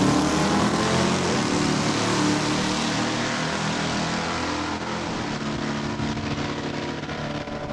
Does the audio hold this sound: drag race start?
yes